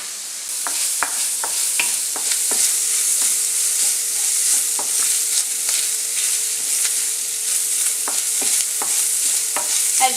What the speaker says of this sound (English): keep stirring the pasta while you're doing it to make sure that it stays boiling and